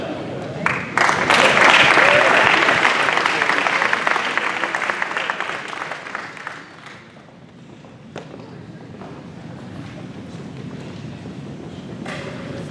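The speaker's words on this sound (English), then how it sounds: "How about another round of applause for all these outstanding." A crowd at a school academic and military awards ceremony applauds students, with full sustained clapping that gradually fades and then lingers as softer scattered claps, with some audience movement noise.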